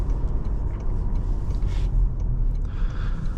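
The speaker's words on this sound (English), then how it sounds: "when you apply a little bit of the throttle, it automatically goes just instantly" A 2025 Toyota Camry XLE accelerates under light throttle, heard from inside the cabin as a steady low rumble and road noise with no talking.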